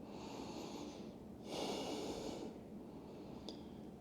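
Audible breathing held in a yoga shoulder-opening pose: a quiet airy breath, then a stronger close exhale about a second long, with a faint click near the end.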